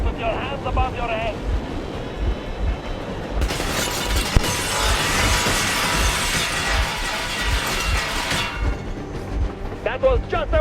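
Warning gunfire from the video game Metro Exodus, set in Moscow: a sudden sustained roar of shots lasting several seconds in the middle, loud over a steady engine-like rumble, then fading.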